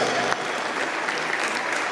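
Steady, dense applause from a crowd at a carnival entertainment show in a shopping gallery in Essen, many hands clapping together in a continuous wash with no talk over it.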